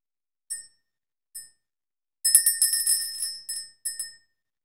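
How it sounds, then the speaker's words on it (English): A small bell rung to clear energy: two single bright dings, then a flurry of rapid shaken rings, then two more isolated dings, each clear and close against silence. "Let's ring the bell, clear the energy, and see what the message is that Spirit has for all of us."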